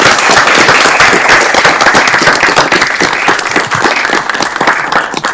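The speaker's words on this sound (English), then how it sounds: "Let's all give them a round of applause." Audience applause fills a city council meeting room, dense steady clapping from many people at full level throughout, slowly easing slightly toward the end, with no talk over it.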